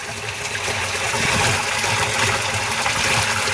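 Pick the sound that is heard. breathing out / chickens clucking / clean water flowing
clean water flowing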